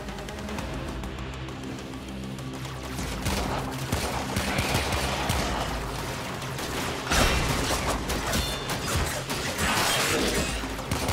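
Rapid, dense gunfire from the video game Warframe, sustained and loud throughout with bursts and impacts layered together and no pauses.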